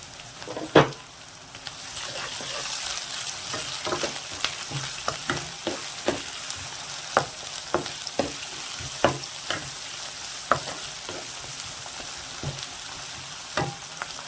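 Small chopped tomato added to a pan for puri kizhangu, frying with a continuous soft sizzle punctuated by repeated light clicks and scrapes of a spoon stirring against the pan.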